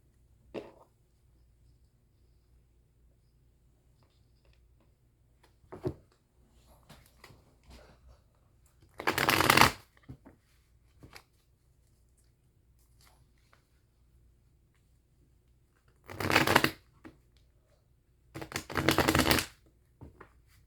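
Tarot cards are shuffled in three short bursts of riffling, close and crisp, separated by long quiet stretches with faint handling sounds and no speech.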